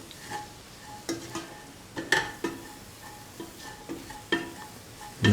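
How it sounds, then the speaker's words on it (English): Rice is stirred in a pan with garam masala, mixed spices and salt, giving a faint sizzle beneath a series of distinct spoon scrapes and taps against the metal, spaced irregularly and close by. "Mix thoroughly."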